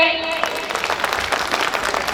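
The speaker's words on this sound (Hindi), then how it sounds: "ताली बजाइए" An audience at a romantic shayari recital with music claps together, a broad wash of applause mixed with a lingering sung or spoken tone at the start, fairly loud throughout.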